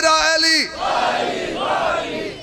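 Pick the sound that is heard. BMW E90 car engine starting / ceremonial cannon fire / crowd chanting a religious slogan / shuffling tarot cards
crowd chanting a religious slogan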